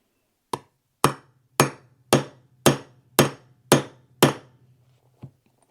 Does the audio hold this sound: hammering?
yes